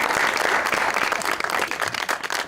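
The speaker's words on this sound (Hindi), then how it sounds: "बस पे तो इतनी अच्छी परफॉर्मेंस पे तालियां" Studio audience applauds a stage performance on a comedy talk show, steady dense clapping filling the whole stretch at a loud, even level with no voices over it.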